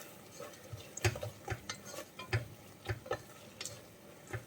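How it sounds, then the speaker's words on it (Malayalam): Onions and spices being sautéed and stirred in a pan for soya biryani, with soft intermittent scraping and light ticking clinks of a utensil against the pan over a faint low sizzle, close and quiet. "ഇനി ഒന്ന് വഴറ്റിയെടുക്കാം"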